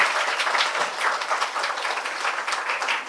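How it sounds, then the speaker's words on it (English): Workshop participants applaud themselves at a conference session, a lively sustained round of clapping from a roomful of people, steady in level and free of talk. "give a round of applause for yourselves"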